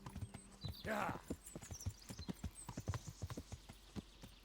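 Horse hooves from Kingdom Come: Deliverance clip-clop in a steady trotting rhythm on a dirt path, with a brief snort or whinny near the start, fairly quiet overall.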